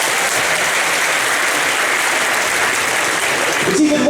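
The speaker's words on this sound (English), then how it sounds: "Let's give a round of applause for this." Audience applause after a card trick at a magic presentation, a steady dense wash of clapping that holds at full loudness for about four seconds before fading as a voice begins speaking at the very end.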